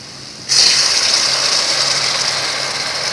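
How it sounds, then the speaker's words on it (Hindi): Water poured into hot frying spices for a ridge gourd (tori) curry in a village kitchen sets off a sudden loud sizzling hiss that keeps sputtering steadily until the end. "अब इसमें हम थोड़ा सा पानी डालते हैं।"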